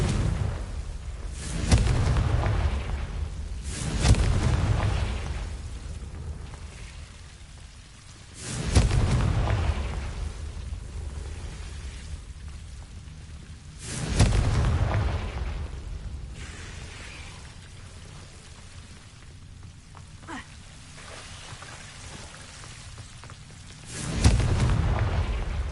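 Confringo fire spells from the Hogwarts Legacy video game burst in a series of five loud, deep explosive booms spaced a few seconds apart, each with a rumbling tail, no talking over them.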